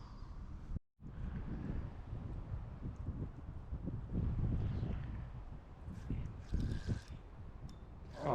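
Wind gusts across an open pond during late-winter bank fishing, a rough, rumbling buffet against the microphone that rises and falls, with a brief lull near the start.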